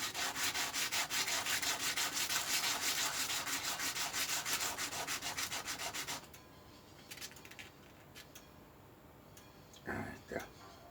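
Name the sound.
sanding one side of a clock anchor part on sandpaper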